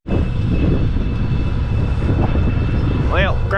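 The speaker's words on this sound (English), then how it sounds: "So we'll let this tractor warm up" A farm tractor engine idles while warming up, a loud steady rumble running throughout, close by, with brief whistle-like sounds near the end.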